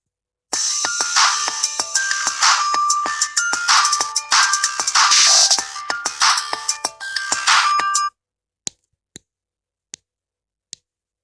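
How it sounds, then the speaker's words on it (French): A phone notification chime rings out loud and clear for several seconds as a bright melodic ringtone with a repeating pattern, stops abruptly, then a few sharp isolated ticks follow. "c'est une petite notification qui me dit quand mes vidéos sortent."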